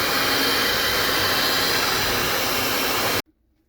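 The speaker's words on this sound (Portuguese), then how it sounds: "a gente vai utilizar a batedeira" An electric stand mixer whirs loudly and steadily at close range while shredding cooked fish, a dense even roar that runs for about three seconds and then cuts off abruptly into near silence.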